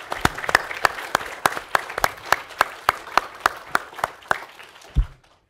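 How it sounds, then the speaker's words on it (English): Applause from an audience at a talk on US-China relations, a steady patter of many hands joined by a few louder, rhythmic claps, fading out around five seconds. "ask for a round of applause to thank the Neuhausers for making this all possible."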